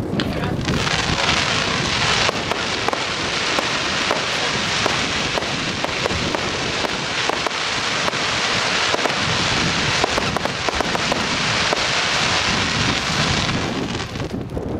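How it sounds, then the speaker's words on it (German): A 49-shot crackling crossette fireworks battery fires outdoors at a pyrotechnics show, a dense, continuous barrage of bursts and sizzling crackle lasting about fourteen seconds, loud and close, with wind rumble on the microphone and occasional voices. "Der nächste 49 Schuss Crackling Crosset."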